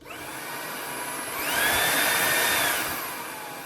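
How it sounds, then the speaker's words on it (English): A Dyson V8 Cyclone cordless vacuum cleaner runs on low power with a steady airy whir and a thin high whine. It swells slightly in the middle and carries on without any talk. "on high power, and now on low power"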